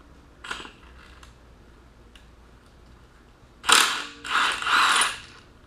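Ratchet working on the engine balancer bolt of a 2006 Honda Civic during disassembly: faint clicks at first, then two loud bursts of close, rapid ratcheting near the end.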